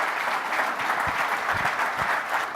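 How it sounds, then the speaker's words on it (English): Audience clapping steadily at a business conference livestream in New York, a dense, even wash of applause filling the room throughout with a few sharper claps standing out near the end. "A round of applause."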